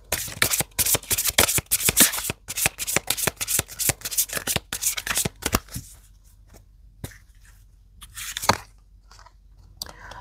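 Oracle cards being shuffled by hand: a dense run of quick riffling rustles and slaps, then sparser, softer card sounds with pauses, close and alone with no talk.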